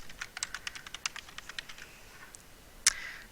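Quick, light keystrokes on a computer keyboard while HTML code is entered, an irregular close clatter of clicks with a sharper louder key press near the end, no voices.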